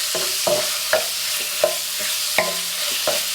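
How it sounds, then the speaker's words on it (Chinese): Diced meat is stir-fried in hot oil, with a soft continuous sizzle under a regular rhythm of loud spatula scrapes against the wok, about two per second. "油热后加入切好的肉丁， 不停地翻炒，炒出肉里面的油脂。"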